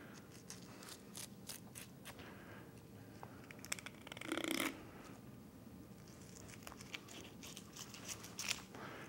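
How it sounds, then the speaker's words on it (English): A knife slices through a flying fish along the rib toward the backbone, giving quiet, irregular crunchy cuts and scraping strokes with a brief denser burst midway, close and faint. "So we're going to cut along the rib, along the top of the fish,"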